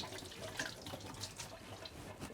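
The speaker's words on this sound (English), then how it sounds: "So I'm just going to give my hands a little wash." Hands are washed under a running tap, a continuous close rush of water splashing into a sink, fairly quiet and without talk.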